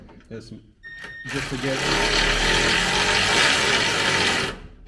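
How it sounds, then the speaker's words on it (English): A power wrench runs steadily on a 2009–2015 Honda Pilot front skid plate, starting its bolts with a loud, close, continuous whirring buzz for several seconds, after a short burst of speech and clicks. "I'm using the power wrencher"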